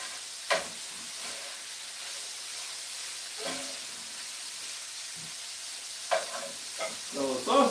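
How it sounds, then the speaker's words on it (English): Sausage sizzles and hisses steadily in a frying pan, a soft continuous crackle broken by occasional clatters and scrapes as it is stirred. "So the sausage is getting nice and cooked up"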